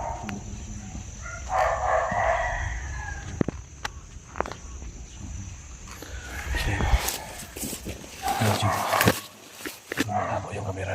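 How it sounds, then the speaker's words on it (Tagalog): Free-roaming chickens cluck and a rooster crows outdoors in the countryside, the crowing rising late in the clip at middle distance, with a dog barking nearby and faint footsteps. "may mga boses pa ng mga manok na ligaw dito"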